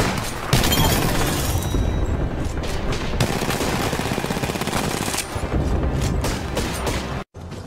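Dense automatic and rapid gunfire in the battle royale game Apex Legends, loud continuous bursts with a few heavier booms, running almost without a break before a short drop near the end.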